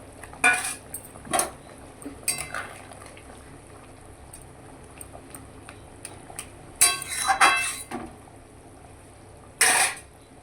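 Pieces of katla fish drop into a bubbling curry (kalia) in a pan, with short clattering and splashing bursts of utensils and pot against a low simmering background.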